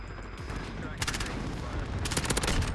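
Automatic gunfire in Call of Duty: Modern Warfare multiplayer, played with an MP7, with bursts of rapid shots starting about a second in and a dense volley near the end, heard over a steady game background.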